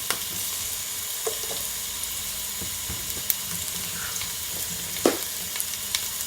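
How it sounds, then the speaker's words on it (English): Pumpkin frying in a pot on a turned-down stove for Jamaican steamed fish and okra, a steady soft sizzle with a few light clinks and stirring taps, close and alone. "I'm gonna add my pumpkin. Just make sure your stove is turned down."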